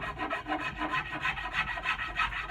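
Yellow birch knife handle being smoothed with a rasp or file, a steady rhythmic rubbing scrape repeating about three times a second, close and alone without talk.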